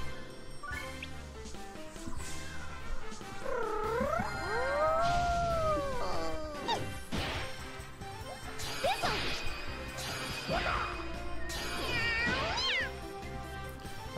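Cat enemies meow and howl repeatedly in the Disgaea D2 video game, with rising and falling cries layered over game music and occasional crashing hit sounds, loud and continuous.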